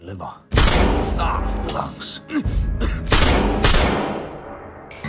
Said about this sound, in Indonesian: menembak Jan tepat di paru-paru, hati, limpa, dan jantung